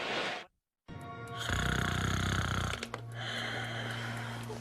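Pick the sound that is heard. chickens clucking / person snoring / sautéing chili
person snoring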